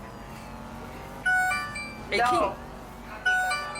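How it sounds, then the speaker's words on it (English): A doorbell chime at the Trump Hotel plays three separate melodic bursts over a room murmur, with a voice briefly speaking nearby. "That is the most Trump doorbell I've ever heard"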